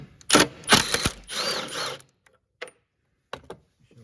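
A ratchet wrench loosens a 10 mm bolt near the battery of a 2015 Hyundai Elantra with a few short, close bursts of clicking, then sparse isolated clicks amid quiet.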